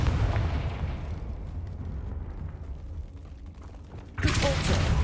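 A Confringo spell explosion in Hogwarts Legacy, a low rumbling blast that fades over a few seconds and then a sudden loud burst near the end, with a voice briefly speaking at the start.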